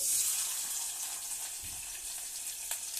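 Onions dropped into hot oil with cardamom, cloves and cinnamon stick, giving a soft steady sizzle and hiss, fairly faint, with no talking.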